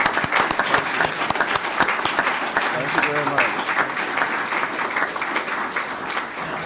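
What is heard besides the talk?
audience applause at board meeting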